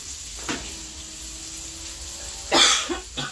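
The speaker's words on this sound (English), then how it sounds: "This cough is just not wanting to go away from me" A person coughs harshly at close range, one short cough early and a louder burst of two or three coughs near the end, with quiet room tone and a faint hum between them.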